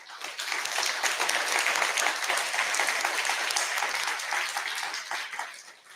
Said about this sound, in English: we just want to do a round of applause